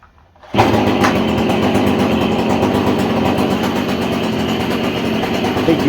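A Stihl pole saw's small two-stroke engine fires up abruptly after a brief quiet start, then runs at a steady, loud, buzzing idle close by for several seconds.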